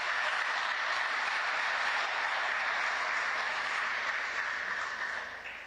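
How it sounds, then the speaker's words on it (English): Sustained applause from an audience at a televised public forum in Benue, a dense steady wash of clapping that tapers slightly at the end. "Please give yourself a round of applause."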